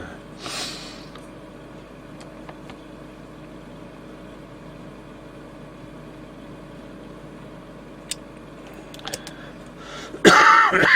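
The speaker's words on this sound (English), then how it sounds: "coughing away." A quiet room hums steadily, with a cough early on and a sharper burst of coughing and throat noise at the very end.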